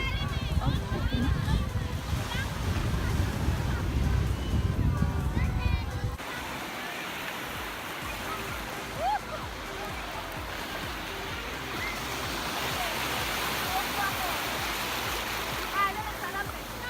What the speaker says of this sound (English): So here is the view of the beach.